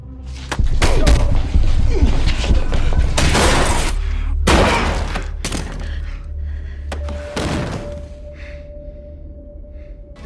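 Gunfire from a Snowfall Season 2 scene, loud sharp bursts and booms with crashing impacts over a rumbling background, fading into quieter ambience with a sustained tone near the end.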